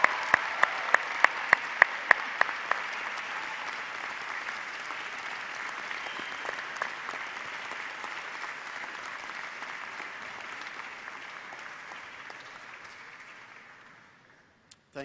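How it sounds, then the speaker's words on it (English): Audience at a university baccalaureate ceremony applauds the graduates' parents and families, a broad sustained wash of clapping from a large crowd that gradually fades out, with a few sharp nearby claps at the start. "Please give them a hearty round of applause."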